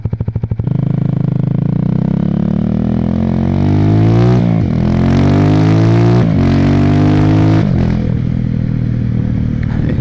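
A Honda FTR223 motorcycle cruising at about 60, its single-cylinder engine droning loud and close with a steady buzzing note that rises and dips through several gear changes and throttle shifts.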